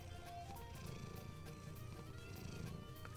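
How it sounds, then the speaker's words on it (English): A big, heavy Russian Blue cat purrs softly at close range, a low steady rumble that continues throughout under faint tonal background sounds. "He's purring"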